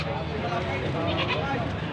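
Goats bleat amid a busy crowd at a Philippine goat market, their calls mixed under people talking nearby in a noisy outdoor setting.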